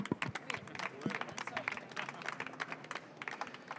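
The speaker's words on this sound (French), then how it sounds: "On applaudit." An audience at a business conference claps in a brisk, uneven burst of applause, moderately distant and fairly quiet, with scattered murmurs among the claps.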